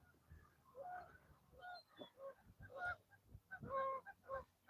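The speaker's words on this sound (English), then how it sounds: "But the seagulls are out today." Gulls call repeatedly outdoors, their honking, squawking cries coming in uneven bursts of varying loudness with some overlap, fairly close by.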